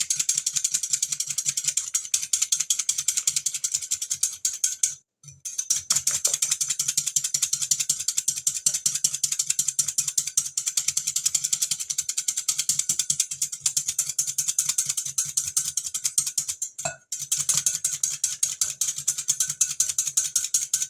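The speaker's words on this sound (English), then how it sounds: "So now we're going to whisk this up till it's nice and frothy." A candied pecan coating is whisked quickly until frothy, giving a continuous fast, bright rattling whir like a rotary hand mixer that pauses briefly twice. It is close and steady, with no talk.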